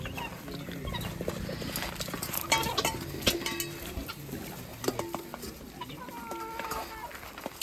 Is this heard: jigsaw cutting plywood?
no